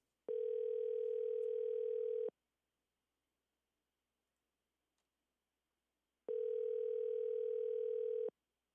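A telephone ringback tone on a call, two long steady electronic beeps of about two seconds each separated by a four-second silence, clear and alone.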